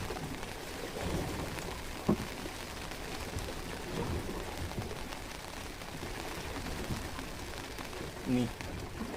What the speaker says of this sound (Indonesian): cuacanya bosku, hujan lagi hujan